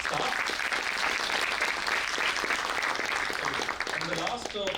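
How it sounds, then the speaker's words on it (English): An audience applauds the event staff at a talk on India-Pakistan peace, giving dense, steady clapping that fills the room for several seconds and fades slightly at the end. "Just a one round of applause to our staff."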